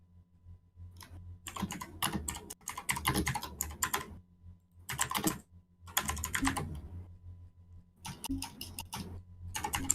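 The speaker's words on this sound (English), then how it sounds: "I've missed the keyboard ASMR as well" Computer keyboard typed on close up in bursts of rapid, crisp key clicks, separated by short pauses, with no voice.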